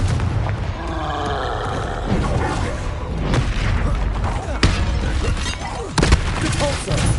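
Blasts from the Confringo exploding spell in Hogwarts Legacy come out as a dense, loud clash of booms and shattering cracks layered with magical whooshes, with a shouted voice mixed in.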